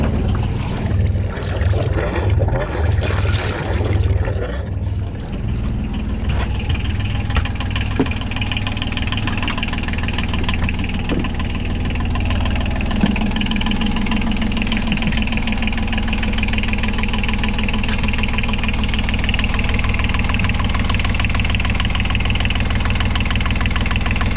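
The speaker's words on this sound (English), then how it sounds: "time to start the engine" Boat engine cranking and settling into a steady idle after repair of a leaking sea water pump, a loud continuous mechanical drone with a slight knock, following a brief burst of starting noise.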